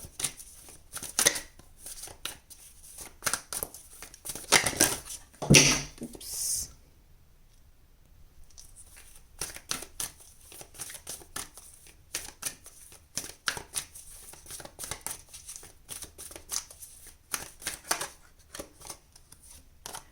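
Tarot cards are shuffled and handled during a pick-a-card reading, with bursts of dense riffling and flicking, a brief louder flurry early on, then a quiet gap before lighter, irregular card clicks resume.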